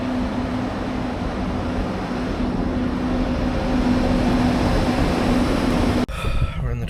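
A train rolls along on the way to Salzburg with a steady, close rumble and a faint constant whine, then a sudden thump and shift in the noise near the end.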